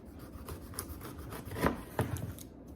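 A knife cutting down the side of a whole pineapple, slicing off its peel, gives soft scraping, rasping strokes with two firmer cuts near the end. The sound is close and quiet, and no one speaks over it.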